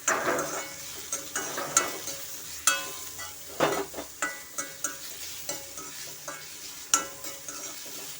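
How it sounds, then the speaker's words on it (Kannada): A large onion fries with rock salt in a pan, a soft continuous sizzle broken by a dozen sharp, close scrapes and knocks of a spatula stirring at an uneven pace. "ಈರುಳ್ಳಿ ದೊಡ್ಡ ಸೈಜ್ ಒಂದು ಈರುಳ್ಳಿ ಚೆನ್ನಾಗಿ ಫ್ರೈ ಮಾಡ್ಕೊಳ್ಳೋಣ"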